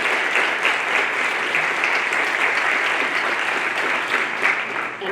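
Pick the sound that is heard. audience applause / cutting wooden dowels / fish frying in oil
audience applause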